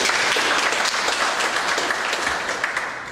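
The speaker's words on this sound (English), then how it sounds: "Now that you clap and you can't take it back" A lecture-hall audience claps in steady, dense applause, close and loud throughout, tapering slightly at the end.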